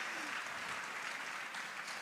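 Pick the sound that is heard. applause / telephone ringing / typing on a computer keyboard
applause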